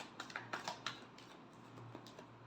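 Tarot cards are shuffled in a quiet room, a few soft papery flicks and taps in quick uneven succession, fairly faint and close, with no talking.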